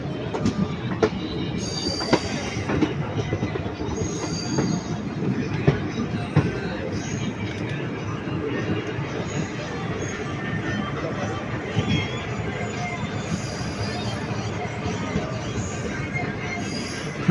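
Passenger train running on rails between Tirunelveli and Karur, a steady dense rumble of wheels and carriages with occasional high wheel squeals and clatter throughout.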